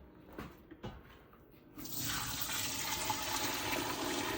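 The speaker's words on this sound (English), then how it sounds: "pour it into another pot through a strainer" Homemade chicken stock poured from one pot through a metal strainer into another pot: a couple of faint clinks, then a sustained rushing splash of liquid for the last couple of seconds.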